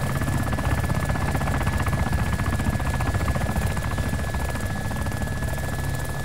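A helicopter in a video game flies nearby with a loud, continuous rotor drone and thumping chop that stays steady throughout, with no talking.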